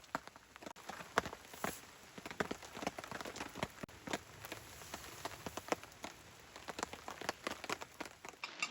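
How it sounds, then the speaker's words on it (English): Rain patters onto a tent at a winter campsite in Kanawha State Forest, an irregular stream of sharp, close taps and drips over a soft, quiet wash, with no talking. "So we'll lay here and listen to the rain for a bit."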